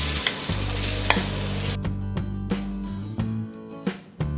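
Grated coconut fries in ghee for a modak filling, with a loud close sizzle at first and then sharp spatula scrapes and knocks against the pan as the hiss fades.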